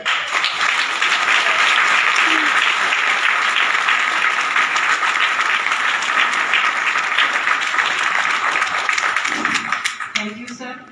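Seminar audience applause filling a large hall, loud and sustained for about ten seconds before tapering off at the end, with no talking over it.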